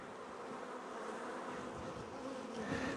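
A steady, close hum of honey bees comes from an open hive during a spring inspection, even and unbroken and swelling slightly at the end.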